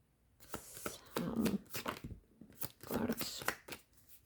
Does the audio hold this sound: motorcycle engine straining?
no